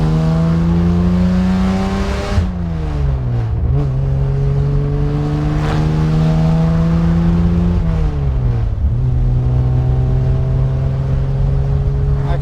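A 1952 Jaguar XK-120 fixed-head coupe's loud, raspy exhaust drones steadily while driving on the road, its pitch dipping at gear changes and then climbing again, heard from inside or near the car.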